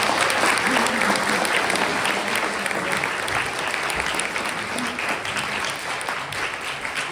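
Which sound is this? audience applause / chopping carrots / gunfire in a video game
audience applause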